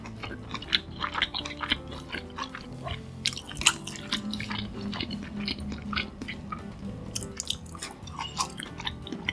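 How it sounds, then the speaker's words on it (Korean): Close, wet chewing of homemade fried chicken dipped generously in premium sauce, with crunchy bites and sticky squishes repeating steadily for several seconds, no talking. "프리미엄 소스 듬뿍 찍어 먹어볼게요."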